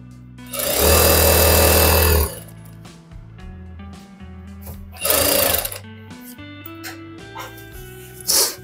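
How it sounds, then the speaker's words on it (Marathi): An electric sewing machine stitches pleats on a salwar in three bursts, a long whirring run, then two shorter ones, loud and close with a faint hum between. "परत मध्यभागापर्यंत सरळ शिवलं, नॉच जिथपर्यंत केले तिथपर्यंत"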